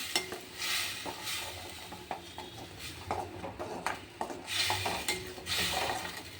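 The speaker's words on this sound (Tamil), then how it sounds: "தக்காளியும் சேர்த்து நல்லா மிக்ஸ் பண்ணிக்கலாம்" Tomatoes are stirred into a coconut masala frying in a pan for a radish kuzhambu. A spoon scrapes and clinks in close, uneven strokes over a soft, steady sizzle.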